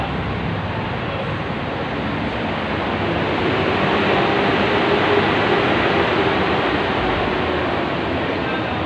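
A loud, steady rushing rumble of a passing LRT light rail train in the Philippines fills the whole stretch, broad and continuous with no voices.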